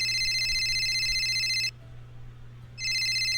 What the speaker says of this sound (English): Suddenly my phone rings